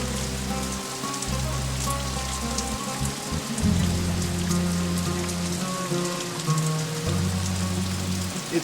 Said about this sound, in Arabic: بتشتي.